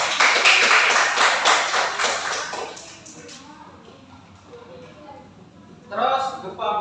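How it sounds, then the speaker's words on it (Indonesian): Classroom of fifth- and sixth-grade pupils clapping their hands together, a dense burst of rapid claps for about three seconds that fades out, followed by quiet murmuring and then a teacher speaking. "coba tepuk tangan dulu"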